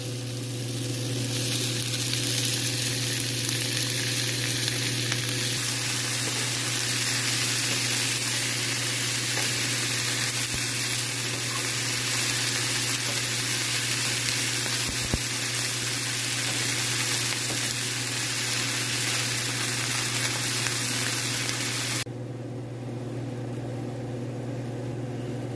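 Honey mushrooms sizzling steadily in a pan, a continuous close frying hiss with low hum beneath, running without talk and dropping off near the end.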